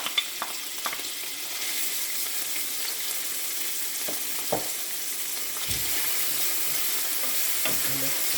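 Saltfish (salted cod) stirs and fries in a pan while cooking with breadfruit, a steady close sizzle running throughout with occasional utensil scrapes and knocks, no talking.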